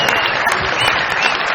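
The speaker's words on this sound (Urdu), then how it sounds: "بہت ساری تالیاں راشد بھائی کے لیے" Studio audience applause on a Pakistani TV comedy show, a dense, steady burst of clapping that holds at an even loudness throughout.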